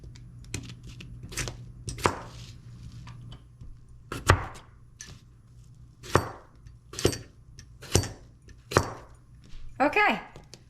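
Vegetables being chopped in half on a cutting board, knife strikes landing in uneven rhythm, sharp and close, with a steady hum underneath and talk between the cuts.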